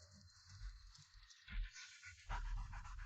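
A loose dog panting in quick, soft bursts close by, with faint pattering and scratching, low and uneven.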